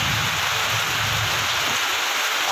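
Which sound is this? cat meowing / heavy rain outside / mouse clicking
heavy rain outside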